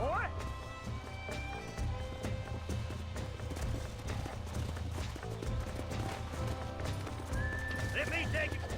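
In Red Dead Redemption, a horse neighs and whinnies amid busy clopping hooves and scuffling, with game music and effects layered densely throughout, fairly loud and close.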